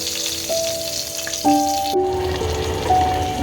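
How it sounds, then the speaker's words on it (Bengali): Cabbage and chicken rolls fry in a kadai, a soft crackling sizzle beneath sustained melodic tones, with no talking. "এইভাবেই সবগুলোকে এক একে ভেজে ভেজে তুলে নেব।"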